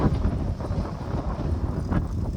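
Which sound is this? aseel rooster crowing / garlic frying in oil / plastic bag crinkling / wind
wind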